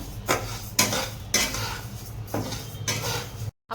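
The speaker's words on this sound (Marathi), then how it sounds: "थोडासा मीडियम गॅसवर तांदूळ भाजून घेऊया" Rice dry roasting in a pan over a medium gas flame, with repeated metal scrapes and stirring strokes at an even rhythm over a soft background hiss. No voices.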